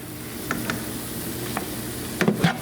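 Meat cut into small pieces sizzles in a frying pan after being flipped, with a steady close crackle and a few brief stirring clatters near the end.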